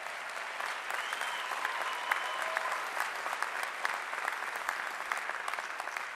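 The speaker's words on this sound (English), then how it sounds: "So another round of applause for the faculty and advisors and the staff." An audience at a 2019 graduate commencement ceremony applauds faculty, advisors and staff. The clapping is steady and dense, with a few scattered cheers, and carries on at an even level for the whole stretch.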